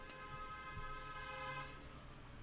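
A car horn honks outside in one long sustained blare, fairly distant and muffled, holding steady for a couple of seconds before fading.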